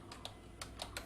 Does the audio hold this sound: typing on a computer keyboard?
yes